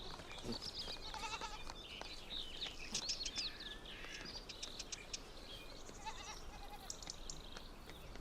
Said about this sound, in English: The Spanish ibex are in the rut.